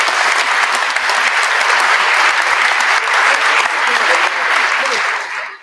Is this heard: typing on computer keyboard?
no